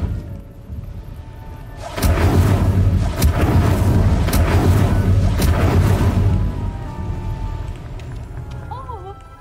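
The Incendio fire spell erupts in the video game Hogwarts Legacy as a loud, roaring burst with deep booming thumps that lasts several seconds, mixed with game voices, then subsides to quieter ambience.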